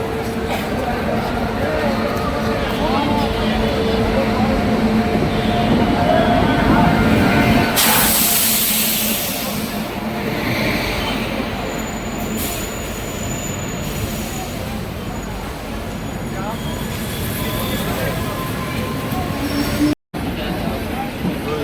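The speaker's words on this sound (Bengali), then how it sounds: "সঠিক টাইমে Sairang express Krishnanagar rail station ছেড়ে যাচ্ছে" The Sairang Express pulls out of Krishnanagar railway station from platform 2, a loud, close rumble of wheels and rolling cars with metallic squeals and a sudden bright rush of noise midway.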